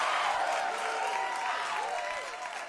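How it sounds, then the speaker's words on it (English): A youth concert crowd at a semi-final claps and cheers on cue, a thick, continuous roar of applause with voices and shouting blended in, moderately distant. "You've got to clap your hands and you've got to cheer."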